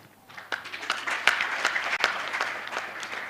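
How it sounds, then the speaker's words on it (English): Audience applause at a mental health and addiction conference session, a dense, steady wash of many hands clapping with a few sharper individual claps standing out, moderately close and continuing throughout without speech. "I'm requesting clap for you"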